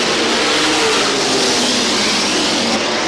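Oval-track race cars at Star Speedway, with the number 77 out front late in the race, roar in a dense, continuous wash of engine noise that stays loud and full throughout.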